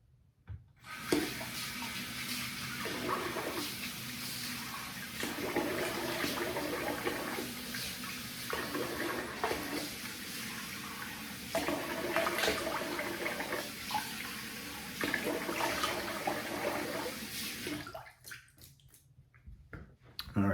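Steady rushing water runs continuously for most of the clip, like a faucet rinsing a shaving brush, with slight splashing changes before it cuts off near the end.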